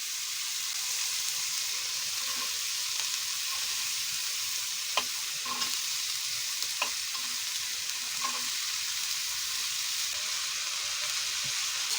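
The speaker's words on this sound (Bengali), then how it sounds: "তো তেলটা গরম হয়ে গেছে, এবার আমরা দিয়ে দেব পেঁয়াজ।" Onion and mixed vegetables fry in hot oil for a vegetable momo filling, a steady close sizzle throughout, punctuated by occasional light clicks and taps of a spoon stirring in the pan.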